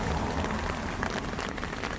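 Steady, moderate rain patters onto a parked car's graphene-coated paintwork, a dense even hiss of drops close by with no voices.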